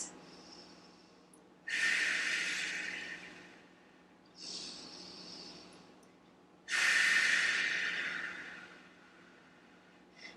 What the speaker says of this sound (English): 2 breaths